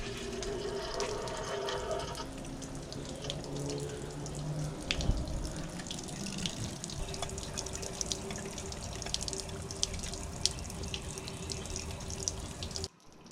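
Water streams from the tell-tale hose of a Yamaha 115 outboard motor connected to a flush hose, a steady close splashing flow that runs continuously and stops abruptly at the end.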